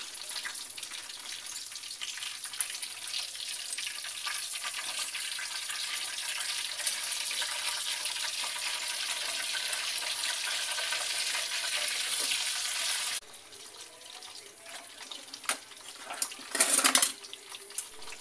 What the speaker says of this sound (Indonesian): ikan mas digoreng dengan minyak panas